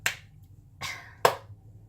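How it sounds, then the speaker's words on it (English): Three sharp hand claps, spaced unevenly and close by, ring out in an otherwise quiet room, each a brief crisp burst. "Why do I keep clapping randomly?"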